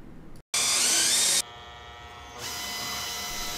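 A handheld drill bores through a bolt under a vehicle, a high whining motor that cuts in sharply, drops to a lower pitch, then climbs again, close and steady.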